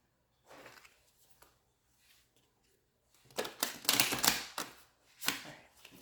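Tarot cards are shuffled by hand for a full moon card reading, giving a few soft rustles and then a run of crisp, close riffling bursts in a quiet room with no talking.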